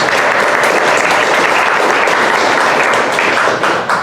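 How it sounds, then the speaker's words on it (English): A crowd at a clean comedy show in Maslow Coffee Co. gives a round of applause for military veterans, loud, dense and sustained clapping filling the whole stretch. "Just a round of applause for those guys."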